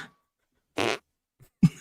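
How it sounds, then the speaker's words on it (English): Fart noise sound effect played to lock in a guess during a podcast game, two short blats about a second apart, the second deeper and louder, close and dry, alone without talk. "And give Andy the fart noise to lock his guess in."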